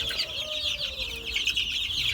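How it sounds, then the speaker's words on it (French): Small rooster among backyard hens of mixed breeds such as silver Orpington, clucking and chattering continuously at close range, a busy bright flock sound with a brief higher call partway through. "On a ici un petit coq."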